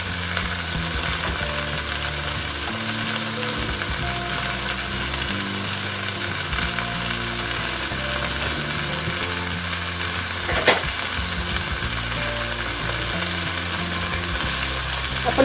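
Tandoori chicken sizzles and fries in oil in a pan, a continuous crackling hiss with occasional stirring scrapes and clinks, fairly close and without talking.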